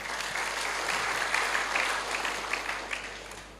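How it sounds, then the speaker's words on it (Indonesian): An audience at a business success event gives a short burst of steady applause, moderately loud and even, with no voices over it. "Tepuk tangan buat beliau semua."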